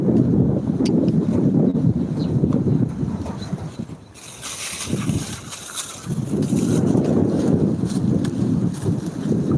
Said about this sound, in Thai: วันนี้ทั้งลมทั้งฝนมาอีกแล้วนะคะ